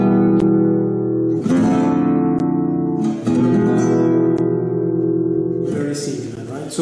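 Close, loud flamenco guitar strums an Andalusian cadence using substitute chords. Each rich chord rings for one to two seconds before the next strum, in a slow descending progression.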